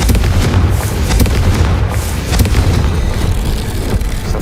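Repeated booming blasts from the Confringo blasting curse in Hogwarts Legacy, loud and close, with several sharp bursts and rumbling aftershocks rolling over a dense, noisy battle background.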